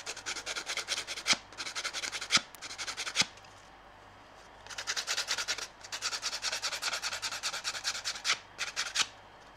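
Repeated bursts of rubbing abrasion sound as a painted wood background surface is sanded by hand, close and brisk, with short pauses between strokes.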